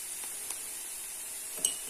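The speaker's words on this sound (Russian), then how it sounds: "перемешиваю все опять же и добавляю томат" Chicken wings fry in a pan with a steady, fairly quiet sizzling hiss while a utensil stirs them, giving a couple of brief clinks against the pan, one near the middle and a sharper one near the end; no voices.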